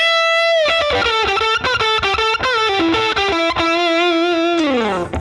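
An electric guitar played through a modelled 1953 Fender 5C3 tweed amp with a boost pedal and spring reverb rings out in a slightly overdriven melodic phrase with sustained notes, loud and close.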